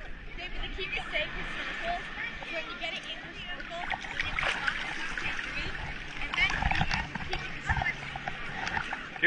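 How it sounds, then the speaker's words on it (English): Big ocean waves splash and churn around snorkelers at Turtle Bay on Hawaii's North Shore, with irregular close splashes and water rushing through the whole stretch while people talk over it. "Big waves. Big waves."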